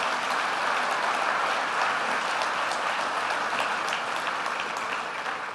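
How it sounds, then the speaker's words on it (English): Steady audience applause fills a convention hall at an Optimist International gathering, a dense wash of many hands clapping at an even level throughout, with no voices standing out above it. "let's give the Kondrasiks a round of applause for that"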